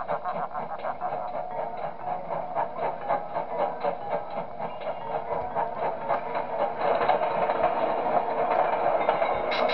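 A train in the horror video game Five Nights At Smudgers 4 rumbles with a rhythmic clattering pulse, steady and mid-loud, growing somewhat stronger toward the end.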